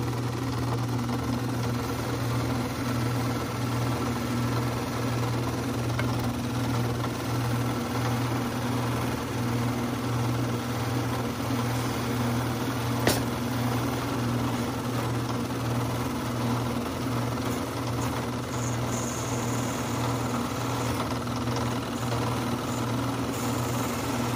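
A buffing machine polishes a wooden ring with a steady, continuous motor hum and whir that holds at an even level throughout, with one brief faint tick partway through.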